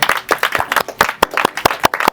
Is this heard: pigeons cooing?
no